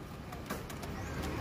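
Racing pigeons coo softly as they return to their loft after a training toss, low murmuring calls amid a noisy outdoor background.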